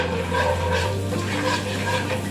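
Kashmiri chili powder sautéing in hot oil for mushroom butter masala, a steady, close, continuous sizzle with a low hum underneath and no talking.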